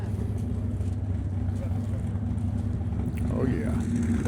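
Low engine rumble from a Packard rat rod at a coffee-and-cars meet in Dripping Springs, Texas, a steady droning throb with wind noise and voices talking over it.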